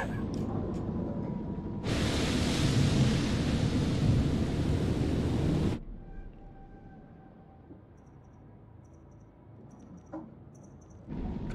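Thunder rolls from a storm in the video game Man of Medan, a loud broad rumbling roar lasting about four seconds before cutting off to quieter ambience.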